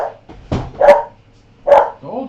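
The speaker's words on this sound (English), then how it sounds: "Told you she'd bark." A dog barks at the window indoors, two loud close barks spaced apart with softer whines and yips between them.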